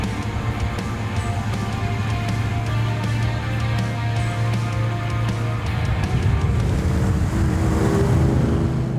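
A BMW 507 engine hums smoothly while driving, a steady low drone with road and wind noise under it that rises and roughens slightly near the end, heard from inside or near the car with no talk.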